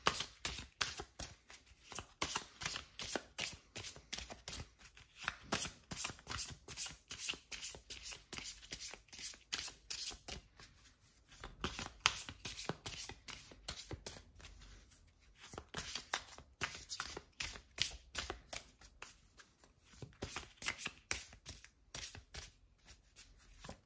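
Tarot cards shuffled by hand before a love reading, a steady run of crisp riffling and slapping bursts that carries on without a break for the whole stretch, close and fairly quiet, with no voice over it.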